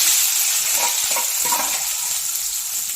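Onions, green chilies, bay leaf, cinnamon and star anise sizzle in hot oil in a pan, a loud, continuous crackling fry up close with faint stirring scrapes.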